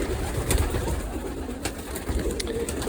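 Racing pigeons coo close by in low, throaty murmurs, with soft rustling and a few faint clicks in the background.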